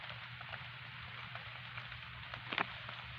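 Rain falls steadily outdoors as an even, continuous hiss and patter under a low hum, with one brief sharper tap near the end.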